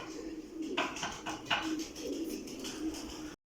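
A flock of pigeons on a rooftop coop gives soft, repeated throaty cooing at close range, overlapping in a steady rhythm against light background noise.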